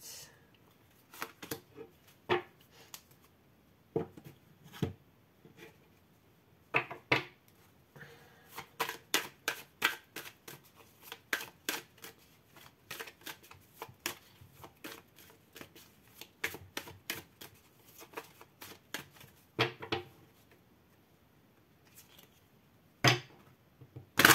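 Tarot cards being shuffled and drawn, heard as bursts of rapid crisp clicks and snaps from a riffled deck with pauses between, close and clear against a quiet background, with no talking.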